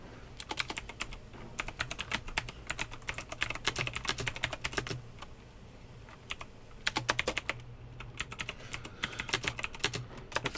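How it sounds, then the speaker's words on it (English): Rapid keystrokes on a computer keyboard, close and fairly loud, come in dense bursts with a short pause midway before the typing resumes. No one speaks. "Oh, you both were about to start typing."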